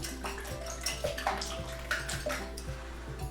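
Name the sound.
whisking six eggs in a bowl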